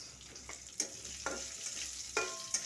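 Onion and green chili frying in oil for a dried fish curry make a soft steady sizzle, with a few sharp scraping strokes of a spatula against the pan.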